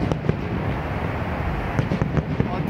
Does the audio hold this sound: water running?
no